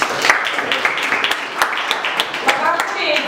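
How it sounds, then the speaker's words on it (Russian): Audience applause at a Kingisepp quiz evening, a broad wash of clapping with sharp individual claps standing out, moderately loud and steady throughout. "Аплодисменты."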